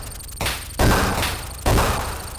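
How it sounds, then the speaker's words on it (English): Small-arms gunfire from the Desert Strike video game, heard as a few loud bursts in close succession, each with a sharp attack and a trailing decay, with no talking. "I quite like the small arms fire."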